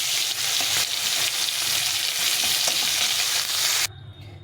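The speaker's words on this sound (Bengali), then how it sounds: "বাকি মাছগুলো এইভাবে ভেজে নেব" Fish that resembles hilsa shallow-frying in hot oil, a loud steady crackling sizzle with small spits and pops that cuts out sharply near the end, leaving a faint hiss.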